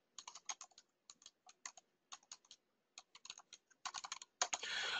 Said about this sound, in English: I'm typing it in the room.